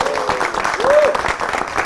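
Enthusiastic applause from a gathered audience, a steady wash of clapping lasting a couple of seconds, with a brief rising tone or whistle in the middle.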